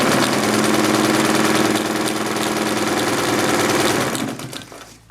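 Vintage Necchi BU Mira sewing machine running at high speed, a dense, steady mechanical whir and clatter close by that holds for about four seconds, then winds down and stops.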